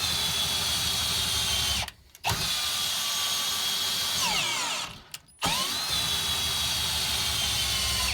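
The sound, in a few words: cordless drill driving RV stabilizer jack with 3/4 inch socket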